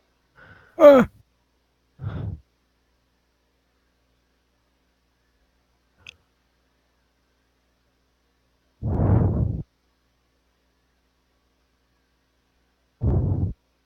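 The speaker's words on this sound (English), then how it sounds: "I also enjoy breathing down my mic" Someone breathes close into a headset microphone during an online tabletop role-playing session: a few scattered soft, breathy puffs and sighs separated by long silences, with one brief vocal sound early on.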